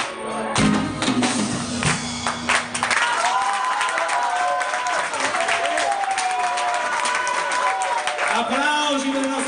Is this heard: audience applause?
yes